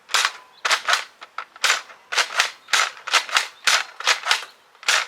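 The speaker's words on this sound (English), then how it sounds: "Let's see how it fires with the barrel." A Nerf Elite 2.0 Eaglepoint blaster with its barrel attached fires Sure Shot foam darts, giving about a dozen sharp, close snapping pops in an uneven rhythm, with no talking.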